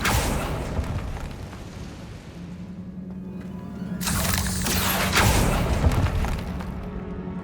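Bombarda and Confringo spell explosions in the video game Hogwarts Legacy: a heavy boom with rumbling debris, followed by a second, louder blast that bursts and crackles for several seconds before fading.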